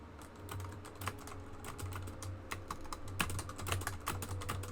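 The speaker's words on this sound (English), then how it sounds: "Can you hear my typing?" Computer keyboard typing clatters steadily throughout, dense key clicks with irregular louder strokes over a low background hum, alone with no voices.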